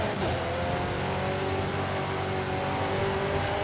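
Car engine revving during an online race in Forza Horizon 5, a loud, sustained engine roar that holds steady throughout with a rising and falling pitch.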